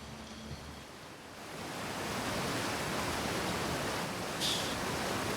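Roaring waterfall in the video game Outer Wilds, a dense, constant rush of water that swells a little louder after the first couple of seconds and holds steady, with a faint brief chirp near the end and no voices.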